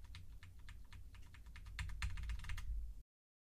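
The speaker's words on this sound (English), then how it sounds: "I'm just going to go ahead and start hitting my keyboard because there's going to be background noise." Keys clatter on a computer keyboard in quick irregular bursts of typing, close and fairly quiet, getting a little louder before stopping abruptly into silence.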